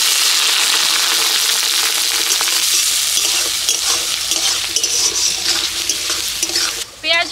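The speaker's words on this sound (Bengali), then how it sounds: "পেঁয়াজ রসুন কাঁচা লঙ্কা একটু ভেজে নিলাম" Chopped onion, garlic and green chili frying in hot mustard oil, a loud continuous sizzle with steady stirring and scraping in the pan, close and unbroken, ending with a brief splash.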